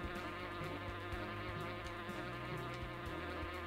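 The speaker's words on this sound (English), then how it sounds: "these bees in the foreground" Steady insect-like buzzing of bees in the video game Bugdom, a continuous droning hum that runs unbroken with no voices over it.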